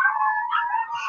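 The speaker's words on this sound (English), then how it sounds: "I wish those dogs would shut up." Several dogs howl and yip close by in one brief, loud, wavering outburst, with no one talking over it.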